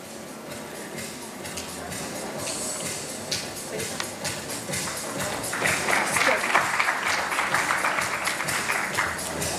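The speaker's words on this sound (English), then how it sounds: "For Ms. Parul Zaveri, could we have a round of applause?" An audience at an indoor event gives a round of applause for a speaker. The clapping is soft at first, then swells into a fuller, denser round in the second half and keeps going to the end.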